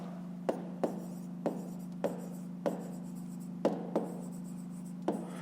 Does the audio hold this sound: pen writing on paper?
yes